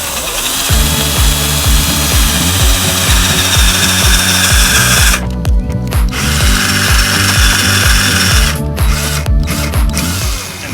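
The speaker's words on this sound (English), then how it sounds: "I'm just drilling into the bottom of the hole." A power drill with a left-handed bit bores into steel during injector hold-down repair on a T1N Sprinter van, grinding loud and close with repeated motor pulses and brief pauses.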